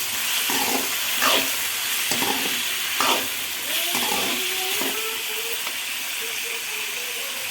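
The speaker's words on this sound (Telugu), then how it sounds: "టమాటా మెత్తగా ఉడికేంత వరకు వేయించుకోండి." Tomatoes frying in a pan for egg curry, a steady hissing sizzle with a few stirring scrapes, and a person speaking intermittently over it.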